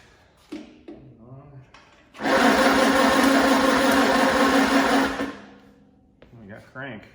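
A Cub's engine cranks over while someone tries to start it: a loud, steady churning whir that lasts about three seconds, with someone speaking before and after.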